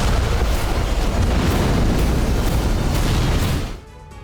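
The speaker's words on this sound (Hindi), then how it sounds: "प्रचंड बमबारी हुई" Heavy bombardment explosions in news footage of a Hezbollah attack, a dense, continuous loud rumble with repeated booms that cuts off sharply near the end into quieter background.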